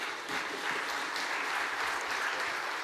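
An audience at a district meeting claps together in a thick, even roar of applause that holds steady from start to finish.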